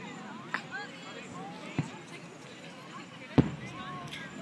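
Fireworks bursting over the Naples pier in Florida on the Fourth of July, three sharp booms spaced a second or more apart over steady crowd chatter and nearby voices.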